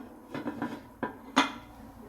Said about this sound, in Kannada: ಈಗ ನಾನು ಕುಕ್ಕರ್ಗೆ ಬಾಯಿಯನ್ನು ಪ್ರೆಸ್ ಮಾಡ್ತಾ ಇದ್ದೀನಿ.